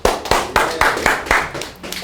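Steady rhythmic clapping from an audience at a sales training session, about eight sharp claps at an even quarter-second beat, close and fairly loud.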